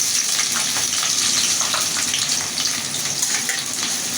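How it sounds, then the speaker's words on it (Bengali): Garlic, onion and green chilli drop into hot oil and fry with a loud, dense, steady crackling sizzle that holds evenly throughout at close range. "আমার তেল গরম হয়ে গেছে এখন আমি রসুন পেঁয়াজ আর কাঁচামরিচ দিয়ে দেবো"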